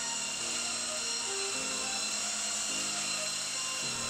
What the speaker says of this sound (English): I started with the belt sander, sanding across the grain to remove material quickly.